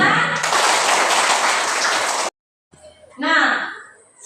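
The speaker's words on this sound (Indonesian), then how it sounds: "Tepuk tangan." Students in an Indonesian school classroom clap together in a loud, dense burst for about two seconds. It stops sharply, followed by a brief silence and then someone speaking.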